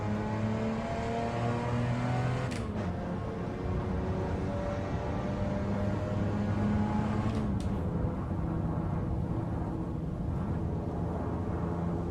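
Engine of a modified Toyota Hilux Champ pickup launching in second gear in Assetto Corsa, driver's view: steady revving that rises in pitch, with two quick gear shifts, droning at moderate volume and no talking.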